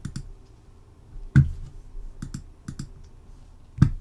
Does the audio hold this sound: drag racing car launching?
no